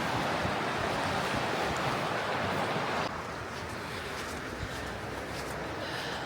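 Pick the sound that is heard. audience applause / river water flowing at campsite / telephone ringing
river water flowing at campsite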